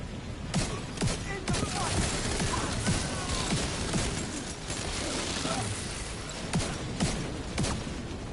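Gunfire from the video game The Division 2 in a firefight at Camp White Oak, dense continuous shooting with sharp repeated shots over a steady noisy battle background.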